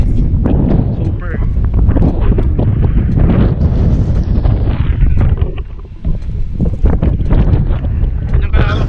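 Strong wind buffets the microphone outdoors at a hilly property lot, a loud continuous roaring rumble that swamps everything, with a voice talking faintly underneath.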